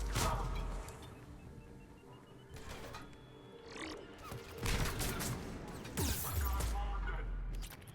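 Gunfire from combat in the video game Mass Effect Legendary Edition, repeated bursts and shots over a steady noisy bed, with someone talking over parts of it.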